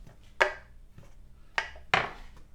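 A sharp knife chops through a bar of chocolate on a chopping board, giving three crisp, distinct cuts with uneven spacing, close and clear against a quiet background.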